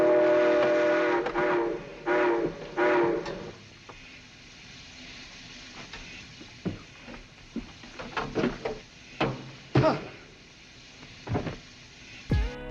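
Train scene from a film in which a stopped circus train is being robbed: a sustained rumble with tonal, whistle-like bands fades out, followed by scattered sharp clanks and bangs at varying loudness.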